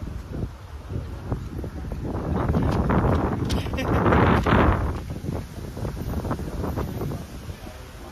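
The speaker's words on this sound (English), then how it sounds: "It's so breezy out here." Breezy outdoor wind buffets the microphone in a steady, loud rumble that swells in the middle, with a brief spoken reply over it.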